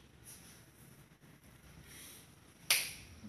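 A single sharp finger snap near the end of a quiet stretch, close and crisp against faint room hiss.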